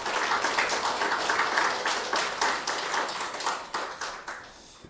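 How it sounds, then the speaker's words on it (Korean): A church congregation claps during a Sunday service, a few seconds of dense, fairly loud applause with sharp individual claps showing through as it tapers off near the end. "우리 하나님께 감사와 영광의 박수 올려드리겠습니다"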